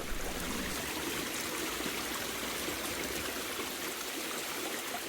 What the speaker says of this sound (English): with a stream flowing gently in the background